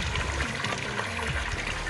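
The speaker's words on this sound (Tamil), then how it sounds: "கிராவிட்டி மெத்தடில் தண்ணி இப்போ அந்தாண்ட போயிட்டுருக்கு" Water from a solar water pump flows out of a pipe by gravity on a farm, a loud, continuous rushing gush that holds steady throughout with no talking.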